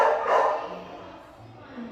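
Dogs barking at an animal shelter, a short burst of yips and barks near the start that fades into lower, softer barking and background kennel noise.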